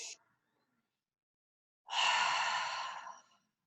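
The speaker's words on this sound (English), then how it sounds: "taking a deep breath in your nose and letting it out of your mouth" One deep breath: a brief intake at the start, a pause, then a long, airy exhale out through the mouth lasting over a second, close and quiet with no talking.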